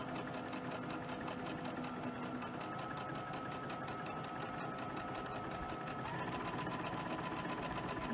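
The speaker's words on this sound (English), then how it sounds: "So let's go ahead and sew that first." Sewing machine runs steadily for about eight seconds, stitching pieces of a quilt block at a slow, even pace with a continuous close mechanical hum.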